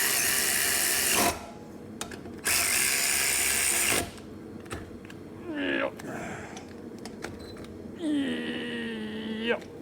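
Ratchet wrench torquing a bolt on a long-dormant Corvette, heard as two loud bursts of rapid clicking close by, followed by quieter mechanical handling and voices talking.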